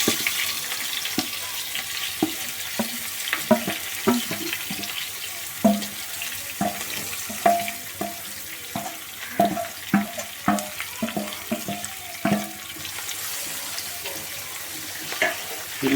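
Brinjal and green chilli pieces frying in a pan, with a steady close sizzle broken by frequent clattering stirs and scrapes, no talking.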